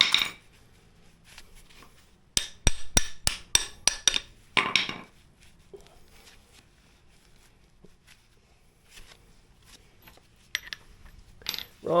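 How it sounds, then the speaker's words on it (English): A rapid series of sharp metallic hammer strikes knocking out a car suspension bushing, about a dozen ringing blows close up, followed by quieter clinks and shuffling. "Now just get a hammer and hammer this part out."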